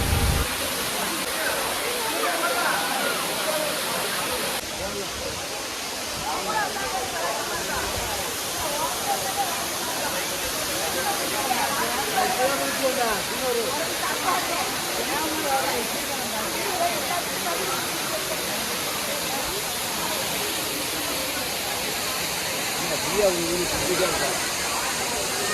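A waterfall at Courtallam roars steadily and continuously, a constant rushing hiss of falling water, with people talking faintly over it.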